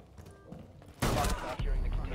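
A sudden loud burst of gunfire in the video game Rainbow Six Siege breaks in after a quieter moment, a dense, booming volley lasting about a second, followed by continued rumbling game noise.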